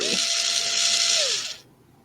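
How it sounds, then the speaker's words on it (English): A cheap electric screwdriver runs with a steady, loud high whine for about a second and a half, and its motor pitch falls as it winds down to a stop. "it's a cheapo electric screwdriver"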